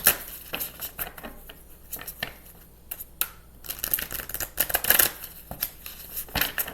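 A deck of tarot cards shuffled by hand up close, with irregular soft riffling, flicking and slapping bursts and no talk.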